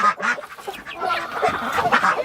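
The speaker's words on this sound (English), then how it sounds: "This is your chicken." A chicken named Emily, kept with a crowded flock in a warm coop during a December blizzard, gives a run of close, nasal clucks and squawks in irregular bursts, with no talking.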